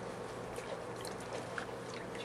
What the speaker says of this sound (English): you can rinse it off there in the water